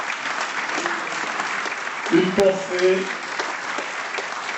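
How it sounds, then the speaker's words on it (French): Audience at a film premiere applauds the film's participants with steady, dense clapping throughout, while a voice speaks briefly over it in the middle. "Alors je propose qu'on les applaudisse tous par ordre d'apparition"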